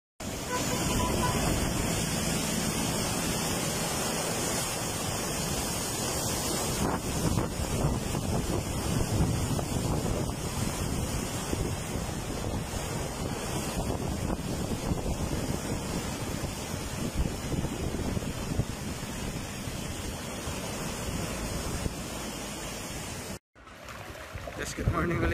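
Roaring super typhoon winds and surf sweep over the microphone as a steady, loud rush through nearly the whole stretch, with a brief dropout near the end.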